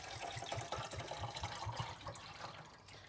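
Red wine is poured into an empty chopped-tomato tin while a slow-cooked lamb dish is prepared, a soft, faint trickling and gurgling of liquid with no voices over it.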